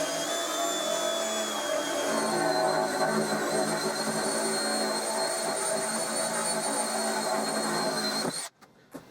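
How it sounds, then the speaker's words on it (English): A 30mm Forstner bit driven by a drill bores into a wooden workbench top, a loud, steady whining drone holding for about eight seconds before cutting off abruptly, with no talking. "So the first job is to drill out a hole for the dog, and I've got a 30mm Forstner bit which I'm going to use to get me started."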